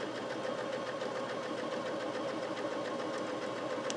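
A Viking Emerald 118 sewing machine stitching rows, running in a steady continuous mechanical whir with a fast even needle rhythm, close and uninterrupted, with no voices.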